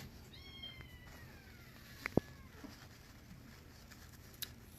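Hungry kittens meow in the background, several thin high cries in quick succession, fairly faint and distant, followed by a couple of sharp clicks and quiet room tone.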